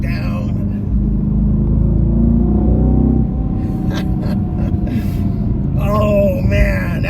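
A 2025 Aston Martin Vantage with a V8 engine driving along, a loud, deep engine rumble throughout with breathy vocal sounds over it from inside the car.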